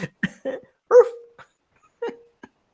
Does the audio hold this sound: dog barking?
yes